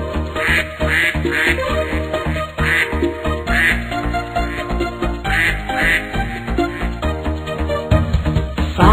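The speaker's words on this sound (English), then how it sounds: "Mother duck said quack, quack, quack, quack" Quacking duck sounds in a children's song, repeated quacks over a bouncy musical accompaniment, loud and rhythmic throughout.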